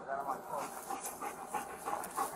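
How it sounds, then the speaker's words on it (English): A police K-9 dog pants rapidly and steadily at close range during a garage burglary arrest, with quick rhythmic breaths throughout and talk faintly present. "The dog just got about 5 feet from him."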